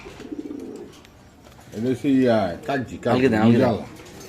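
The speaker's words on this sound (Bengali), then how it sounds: "এটা খুব সুন্দর এক জোড়া কবুতর দেখলাম অনেক সুন্দর ডাকতেছে" Deep, throaty pigeon cooing comes in two rolling phrases after a short softer call, close and fairly loud, with faint background noise.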